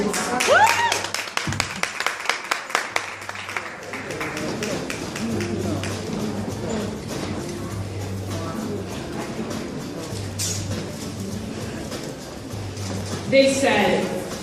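A short burst of audience clapping at a Miss Plus Canada event opens the moment, then dies away as a single voice begins speaking steadily over a quiet room for the rest.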